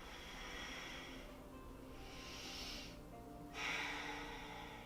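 Slow, steady breathing during a yoga class, airy exhales rising and fading in long waves, close and moderately soft, with no talking.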